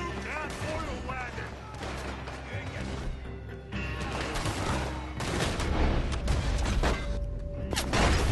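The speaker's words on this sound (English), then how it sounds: "I'm supposed to shoot the oil wagon." Gunfire in the Red Dead Redemption 2 video game, with dense volleys of shots and crashes over a constant rumbling game soundscape, loud and continuous for several seconds.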